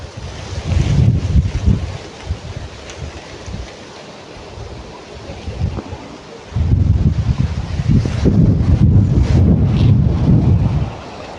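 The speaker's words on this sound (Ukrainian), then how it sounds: "Дуже сильний вітер піднявся" Strong wind buffets the microphone in loud, rumbling gusts, easing briefly in the middle before surging back even harder, with a hissy roar throughout.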